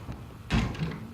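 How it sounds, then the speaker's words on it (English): A house door at a rebuilt historic home near Houston is pushed shut and locked, giving one solid thump with a brief rattle, fairly close and alone. "I need to lock this door before we leave"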